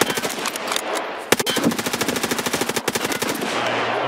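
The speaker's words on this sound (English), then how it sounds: "I shot him in the body." A shooter video game lets off rapid automatic gunfire, a sharp opening shot followed by a long fast rattling burst of evenly spaced rounds, loud and close, with no talking over it.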